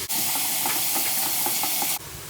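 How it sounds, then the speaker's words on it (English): Minced garlic hits melted butter in a pot with onion, producing a sudden loud steamy hiss that holds steady for about two seconds, then cuts off to quiet. "Now we're gonna add some minced garlic."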